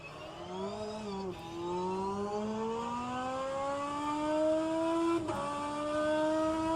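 A BMW DTM racing car engine drones steadily at Spa in a sim race, its pitch climbing through gear shifts, with two brief drops between rising whines; no voices.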